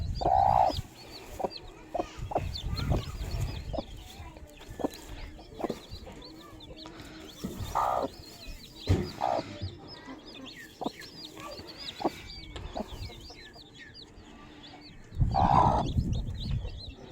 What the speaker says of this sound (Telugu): ఒక పిల్ల ఇప్పుడే వచ్చినట్టుంది ఇంకా వస్తున్నాయి కూడా పిల్లలు